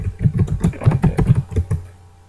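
Quick bursts of typing on a computer keyboard while filling in a spreadsheet table, a run of close, crisp key clicks in uneven clusters that tails off into quiet at the end.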